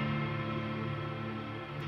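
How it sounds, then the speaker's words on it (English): A soft, washy guitar tone hangs in a sustained reverb tail, faint and ambient, from an acoustic guitar through a particle reverb effect on a Helix. "reverb that I believe is from the Legacy series of effects in the Helix"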